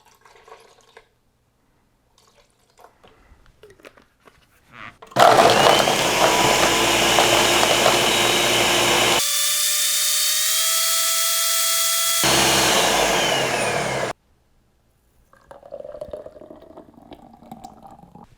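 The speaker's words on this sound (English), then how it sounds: "blend it up, see if it's at the right consistency" A Ninja blender whirs loudly for about nine seconds while blending a blueberry smoothie, its motor pitch shifting partway through as the contents churn, then cutting off abruptly into quiet handling noise.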